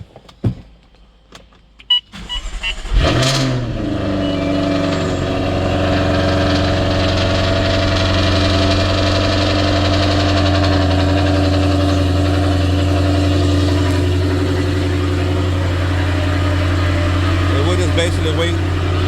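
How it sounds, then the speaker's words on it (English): Jaguar F-Type R started with the key: a brief starter crank, a loud rev flare, then a steady, even idle rumble that holds for many seconds. "now we'll go ahead and crank the car up with the key. And let this thing run for about 10 minutes"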